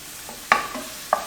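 Vegetables sizzle steadily in a hot pan for a Chinese dish, with two sharp, close scrapes of a metal spatula against the pan about half a second apart.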